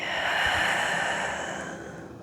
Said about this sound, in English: take an inhale through the nose and release it out through your mouth like a soft sigh